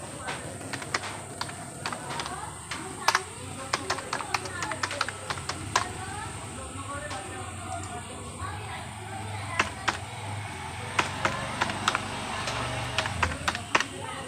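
Rapid keyboard typing as a name and ration card number are entered into an online order form for a PVC ration card, with irregular close clicks running throughout over a faint background murmur.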